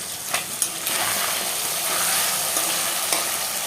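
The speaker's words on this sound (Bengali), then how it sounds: "ছোট মাছ ভাজা হচ্ছে, হলুদ আর লবণ দিয়ে মাখিয়ে রেখেছি" Small fish coated in turmeric and salt sizzle in hot oil, a dense, close, continuous frying hiss with a few brief clicks and no talk.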